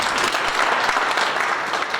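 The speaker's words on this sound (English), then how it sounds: "Give him a clap of hands." School audience clapping hands for a speaker, a thick continuous wash of applause from a sizeable crowd, loud and even from start to finish.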